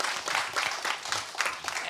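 Audience applause after a call to clap for the YMCA at a climate justice and human rights panel, a steady wash of clapping hands filling the short span at moderate level with no talk over it.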